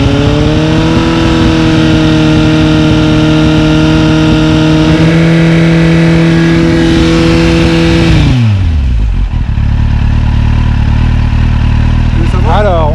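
A motorcycle engine sits at a steady, loud, high rev for a sound level meter test, then drops sharply back to a rumbling idle, with a short blip near the end and people talking over it.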